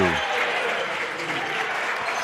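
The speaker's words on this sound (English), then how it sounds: "And the bench is cheering for Braden Steffens." A high school basketball team bench claps and cheers after a made layup in a Wahpeton Huskies versus Oak Grove game, a busy burst of applause with voices mixed in, close and loud.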